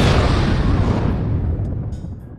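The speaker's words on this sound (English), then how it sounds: "A loud explosion ripped through the air" A loud, booming explosion in an audio drama, a single heavy blast with a long rumbling tail that slowly fades over a couple of seconds, with no voices.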